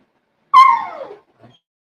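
A dog lets out a single drawn-out whimpering yelp that slides downward in pitch, followed by a faint brief sound, in an otherwise silent room.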